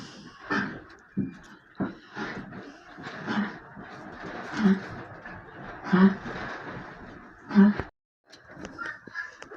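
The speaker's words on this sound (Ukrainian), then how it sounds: "Голуби собі зверху" Soft repeated cooing from pigeons mixed with chicken and other fowl calls and honks, fairly close, in a busy farmyard bird enclosure with no talking.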